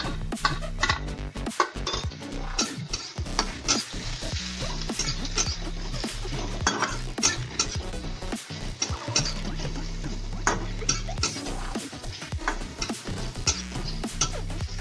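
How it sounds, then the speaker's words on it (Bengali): Black cumin seeds fry in oil in a pan for an egg and potato mash, a steady close sizzle broken by frequent clicks and taps of a utensil stirring against the metal. "এখন কালো জিরা গুলো দিয়ে দেব।"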